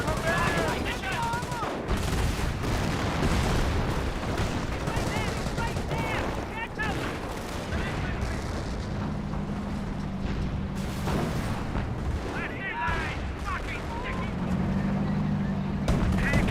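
Mortar blasts and gunfire from a Company of Heroes 1 battle with Sherman 76 tanks and a Jagdpanther, dense bursts of rifle and machine-gun fire with heavy explosions throughout, plus a low engine drone in places.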